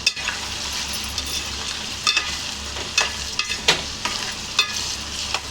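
Softened onions fry in a pan for a prawn and gongura curry, a loud close sizzle broken by repeated scraping stir strokes at an uneven rhythm.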